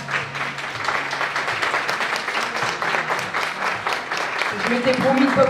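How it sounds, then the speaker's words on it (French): Loud, sustained applause from the audience at a Miss and Mister beauty pageant election, steady clapping throughout with voices and cheering mixed in toward the end. "Je pense qu'on peut l'applaudir bien fort."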